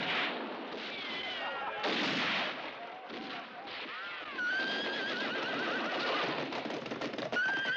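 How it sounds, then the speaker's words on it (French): In a French-dubbed western film battle, horses whinny loudly and repeatedly over a continuous rattle of machine gun fire and clattering hooves, with faint shouting mixed in. "Les chevaux! Les chevaux! Rattrapez-les!"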